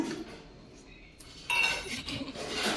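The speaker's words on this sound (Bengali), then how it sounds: "কি সুন্দর আওয়াজ করে করে চাটনি খাচ্ছে" A child eating chutney from a bowl with a spoon, making light clinks and scrapes of metal on dishware, soft and close, with a brighter clatter near the middle.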